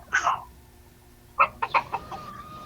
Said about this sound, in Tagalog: May manok ka, kuya.